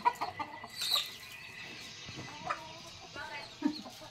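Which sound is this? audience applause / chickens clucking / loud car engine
chickens clucking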